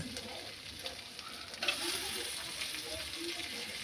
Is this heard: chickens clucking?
no